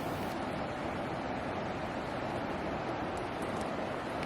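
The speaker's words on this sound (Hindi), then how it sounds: "तीस्ता नदी। इसकी आवाज़ आपको सुनाई दे रही होगी।" Teesta river flowing in green hill country, a steady, unbroken rush of water heard at a distance, with no voices.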